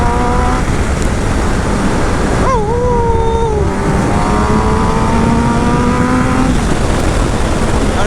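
A two-wheeler ride at around 50 km/h produces a constant loud roar of wind buffeting throughout, while a voice talks or sings over it.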